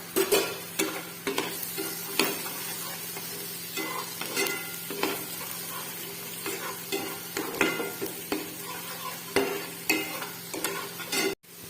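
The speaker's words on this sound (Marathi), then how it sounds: "तेल गरम झाल्यानंतर हे वाटण टाकायचं नंतर कढीपत्ता" Ground spice paste and curry leaves fry in hot oil in a wok, a constant crackling sizzle punctuated by repeated scraping strokes of a ladle stirring.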